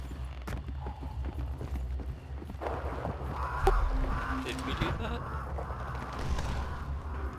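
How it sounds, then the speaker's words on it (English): Crows in a video game burst into startled cawing and honking calls, heard at a moderate distance over a steady low rumble and background game noise. "The birds went off north of us."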